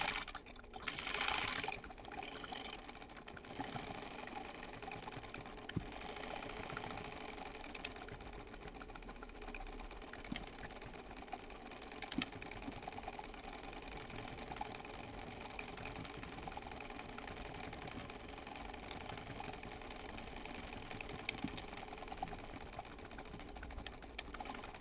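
A sewing machine runs free-motion stitching across sheer fabric, its low, steady mechanical whir and rapid needle ticking continuing almost unbroken, soft and nearby with small shifts in pace.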